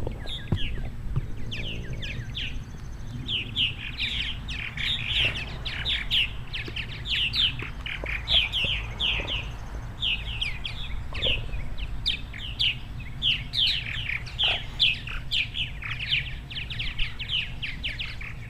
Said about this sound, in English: Let's say they're real beautiful birds.